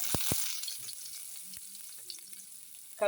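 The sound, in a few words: garlic frying in hot oil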